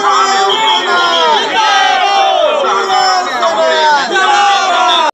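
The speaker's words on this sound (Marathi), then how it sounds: "विजयाचा जल्लोष उडवतोय आम्ही" A large crowd shouts and cheers without pause at an election victory celebration for the Mahayuti alliance candidate in Bhiwandi Rural, with loud, overlapping voices rising and falling in waves throughout.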